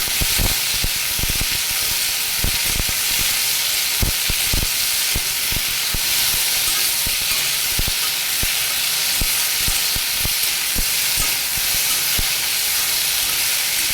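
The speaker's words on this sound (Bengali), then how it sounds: "আগে এটা দিয়ে একটু মিশিয়ে নেব, একটু ভাজা ভাজা করে নেব" Okra, potato and corn fry in a pan, giving a steady loud hiss and sizzle with frequent sharp crackles and spatters throughout, no voices.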